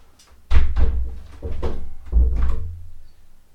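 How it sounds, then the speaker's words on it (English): Indoor doors being shut against outside noise give a series of heavy close thuds and knocks, several impacts spaced over a few seconds with no talk. "sorry for some outside noise were coming. That's why I just shut my doors off."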